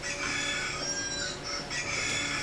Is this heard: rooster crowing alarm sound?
yes